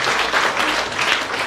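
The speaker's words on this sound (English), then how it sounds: "Clap for Jesus." A church congregation claps together in a brief burst of steady, dense applause, heard alone without voices over it.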